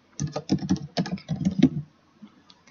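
Fingers type rapidly on a computer keyboard, close and crisp, a steady run of keystrokes in quick clusters before trailing off into a few faint taps.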